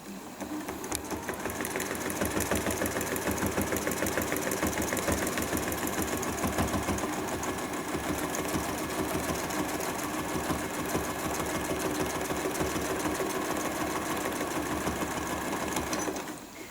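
A sewing machine runs at a steady fast clip for about fifteen seconds, thread held under the presser foot, its rapid even needle chatter and motor hum loud and close before stopping at the end, at a bleachwork workshop.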